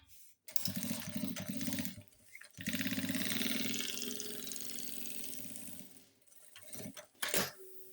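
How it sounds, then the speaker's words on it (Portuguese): A sewing machine runs close by as it topstitches a seam on a small fabric necessaire pouch: a steady whirring run of about two seconds, a brief pause, a longer run, then a stop and a few handling noises. "Eu vou rebater a costura."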